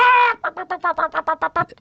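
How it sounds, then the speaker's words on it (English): Chickens heard in a billiards hall in the Philippines: a loud, close squawk followed by a quick run of about nine rhythmic clucks. "chickens running around the table. That's Literal chickens."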